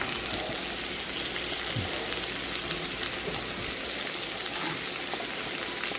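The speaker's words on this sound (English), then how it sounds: "we're going to throw the mushrooms in" Steady, dense sizzling of mushrooms frying in a hot pan, loud and continuous throughout with a faint stir or scrape now and then.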